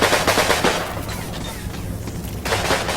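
Rapid gunfire rattles against a church tower in the wartime strategy game Combat Mission Final Blitzkrieg, dense loud bursts at the start that thin out briefly before another volley returns.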